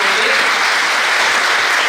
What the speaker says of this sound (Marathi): चला एकदा जोरदार टाळ्या मॅडमांच्या या व्याख्यानासाठी